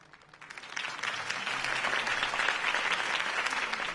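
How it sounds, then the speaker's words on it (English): Applause from a crowd in the video game Batman: The Telltale Series swells in within the first second and holds steady, a dense, continuous patter of many hands clapping. "could have heard that applause"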